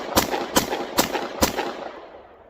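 A Glock 43 pistol loaded with hollow point rounds fires four sharp, loud shots at an even pace about half a second apart, each leaving a short ringing tail, with no talking.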